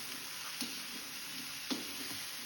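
Potato curry mixed in a pan: a low steady sizzle with two distinct utensil taps against the pan, moderately quiet, no speech.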